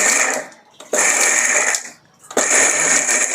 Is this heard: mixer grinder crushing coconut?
yes